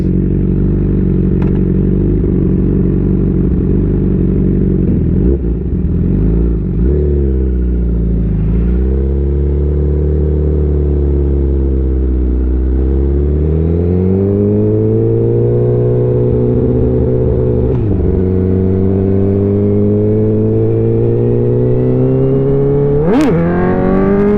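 A Honda CBR 1000 SP sport motorcycle engine revs up and down repeatedly while riding, its pitch rising and falling in long sweeps, loud and close with no talking.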